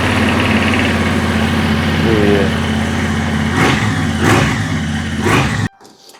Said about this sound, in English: So right now we can do a cold start with the stock exhaust.